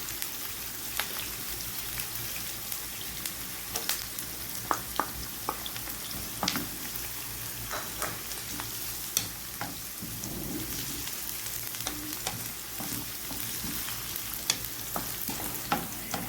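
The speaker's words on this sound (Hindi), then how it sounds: "अब हम इसमें जिंजर और गार्लिक डालेंगे।" Ginger and garlic frying with browning onions in about four tablespoons of oil for keema bread, a continuous crackling sizzle like light rain, punctuated by scattered spatters and stirring clicks, no voices over it.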